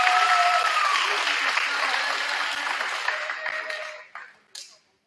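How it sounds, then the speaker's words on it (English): Sustained audience applause fills a high school gym or hall at a fall sports award night, loud and dense at first, then thinning and tapering off into a few scattered last claps. "So let's give a round of applause."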